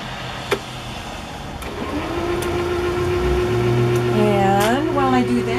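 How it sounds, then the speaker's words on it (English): Sewing machine winding a bobbin, a steady mechanical whir that builds and holds with rising and gliding tones, close and fairly loud, with a brief tap at the start. "So I'm just going to wind my bobbin."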